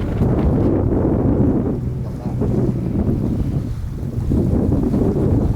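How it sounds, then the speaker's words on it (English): Wind in about 12 knots rushes over a sailboat at sea, a loud, continuous buffeting roar against the microphone with water washing along the hull beneath, no voices. "Just like that, 12 knots of wind."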